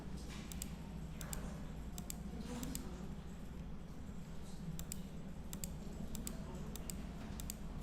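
Mouse clicks while working in Adobe Illustrator, a handful of sharp, light clicks spaced irregularly over a steady low hum of room and computer noise.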